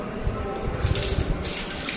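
Water runs from taps at a school's water facility, a steady close splashing with bursts of stronger flow and faint dripping, no one speaking.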